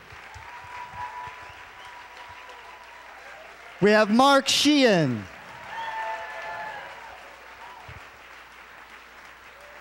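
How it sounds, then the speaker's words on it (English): Crowd applause at a Maui County GMO moratorium initiative launch event, a broad wash of clapping running beneath a voice at a microphone, which briefly rises louder over the noise. "let's hear a round of applause"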